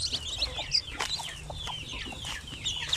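Newly hatched chicks peep in high, rapid chirps close by while hens cluck softly underneath, a busy, continuous farmyard chatter with no talk.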